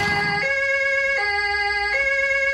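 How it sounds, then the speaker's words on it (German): A police car siren in a video game wails loudly and steadily with a bright, stepped two-tone pattern, switched on and sounding alone with no talk. "ich mache jetzt einfach die Sirene an"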